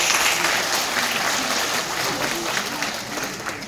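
Audience applause at a Korean forum on reviving underground shopping arcades, dense and steady for a few seconds and slowly fading, with no one speaking over it.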